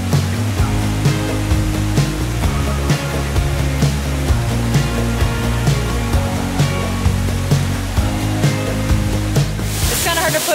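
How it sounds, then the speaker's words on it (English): Looking Glass Falls, a large waterfall along the Blue Ridge Parkway, roars in a loud, steady broadband wash heard up close with no talk. "To put into perspective how big this waterfall is."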